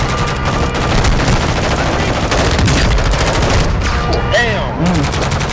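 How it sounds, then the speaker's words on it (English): Gunfire in Warzone 2 during a vehicle chase, loud sustained automatic bursts rattling almost continuously, close and forceful over engine and game noise. "Shoot up there, Kenny."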